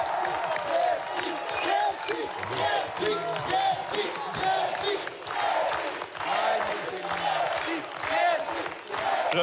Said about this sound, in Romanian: Nu merit eu atâtea aplauze și atâta dragoste.